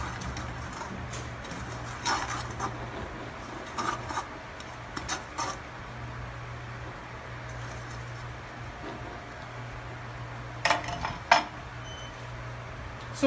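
Beef pelau being stirred in a pot, a soft scraping and rubbing of a spoon against the pot in intermittent strokes over steady low background hum, with a few louder scrapes.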